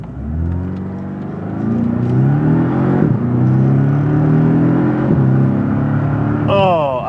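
A Porsche 718 Cayman in automatic mode accelerates from inside the cabin, its engine note climbing through gears in a loud rising whir with shift dips, ending in a brief high squeal.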